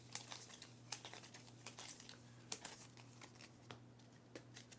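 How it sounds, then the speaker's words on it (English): A deck of cards for the board game Earthborne Rangers is shuffled close by, quiet riffling and snapping bursts repeating irregularly over a low background hum, with no talking. "And we need to shuffle these and pull one out."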